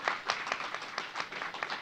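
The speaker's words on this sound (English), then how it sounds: "We have big round of applause to our director" A screening audience offers a soft, brief round of applause for documentary director Razi Jafri, light scattered clapping heard faintly at a distance for just under two seconds.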